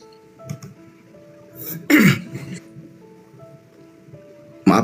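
Coughing and throat clearing from a man during a spoken exchange, a short burst near the middle and another at the end, with talk and background noise between.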